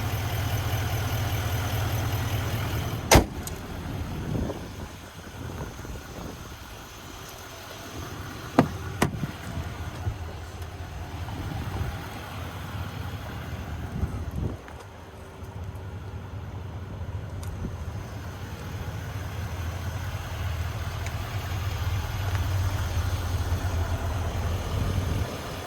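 A 6.6-liter Duramax diesel in a GMC Sierra 3500HD Denali Reserve idles with a steady low rumble, broken by a few sharp clicks and knocks nearby.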